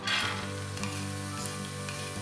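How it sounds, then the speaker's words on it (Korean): Finely chopped carrots stir-fry in a pan with a steady, soft sizzle, broken by light scraping and stirring sounds, and no talking. "당근을 볶아줍니다."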